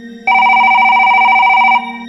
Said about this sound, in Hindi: फिर फोन फिर से बज उठा।